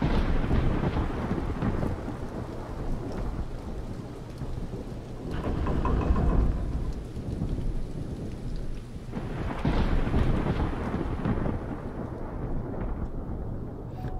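Thunderstorm with heavy rain in the horror game Into the Shadow: a dense, continuous roar of rainfall with swelling rolls of thunder, loud and alone with no voices.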